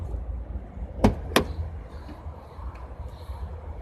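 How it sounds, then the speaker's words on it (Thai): Two sharp, close clicks of a handle being pulled to release an electric sliding van door, followed by a soft, faint hum of the door beginning to move. "ประตูเลื่อนครับ ดึงมือเปิดอีกครั้งครับ"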